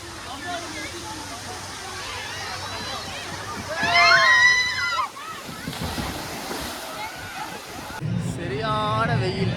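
Water games at an amusement park under hot sun: continuous splashing and sloshing water with a surf-like wash, while people talk and shout nearby and a voice rises in excited, sing-song cries.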